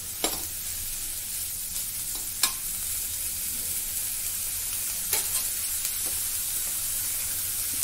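Food being stirred in a pan on a stove at low heat, a steady sizzle and hiss throughout with occasional sharp scrapes of the spoon against the pan.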